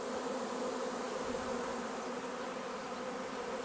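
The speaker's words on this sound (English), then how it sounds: "There is bees everywhere." A dense swarm of honey bees buzzes continuously and loudly up close, a steady droning hum with no pauses.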